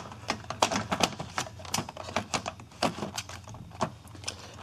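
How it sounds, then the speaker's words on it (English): A Commodore 64 keyboard is slid into the notches of its case, giving a close series of irregular plastic clicks, knocks and scrapes throughout. "And then you have to slide the keyboard under these notches."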